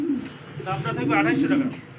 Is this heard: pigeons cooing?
yes